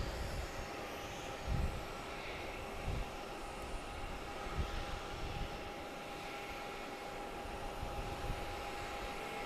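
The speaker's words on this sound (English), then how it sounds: "Next coming into land on 4 right is JetBlue coming in from" A JetBlue Airbus A220 arriving from San Juan lands on runway 4 right at Logan Airport, heard as a steady distant jet engine roar with low rumbling gusts throughout.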